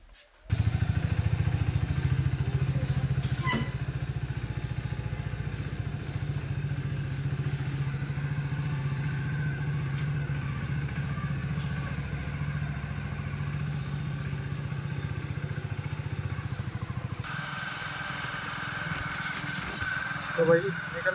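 A motorcycle engine runs steadily and loudly while riding through a village area, a constant low rumble with occasional clatter, and someone talks over it.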